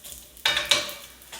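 Bacon fries in a pan, giving a low background sizzle broken by two sharp bursts of crackle and scraping as it is stirred, with no talk.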